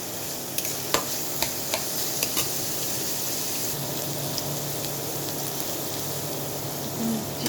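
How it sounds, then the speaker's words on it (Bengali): Chopped carrots, onion, ginger and garlic frying in oil in a pan, giving a steady close sizzle with occasional scrapes and taps of a stirring utensil, no voices. "তেল দিলাম, পেঁয়াজ, একটু আদা, একটু রসুন দিয়ে গাজর দিলাম, গাজর কুচি,"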